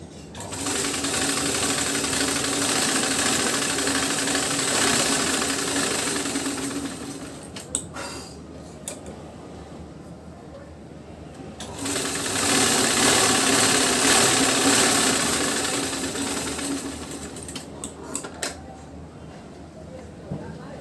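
An electric sewing machine runs a straight seam joining lining to main fabric in two loud, steady bursts of fast whirring, separated by a quieter gap with a few clicks and handling sounds.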